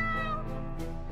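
A single short cat meow rings out clearly and close in the game Pumpkin Ghost's Candy Pot, a bright brief call over quiet background.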